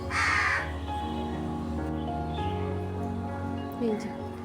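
Crows caw near a home in rainy weather, where they crowd in whenever pigeons are fed; a burst of calls comes at the start, with a few more later over a steady hum of background noise.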